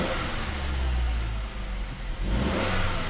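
A 2006 Mazda 3 engine, freshly swapped into the car, revs smoothly up and down in a couple of quick throttle blips, heard at moderate level without speech.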